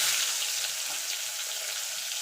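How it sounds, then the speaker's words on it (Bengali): Eggplant pieces fry in hot oil in a pan, the oil already used for frying tangra fish, giving a steady, close hiss that stays even and moderately loud throughout with no talking. "এই তেলে বেগুনগুলো ভেজে তুলে নেব"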